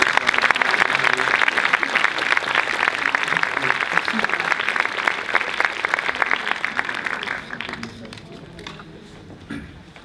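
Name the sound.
applause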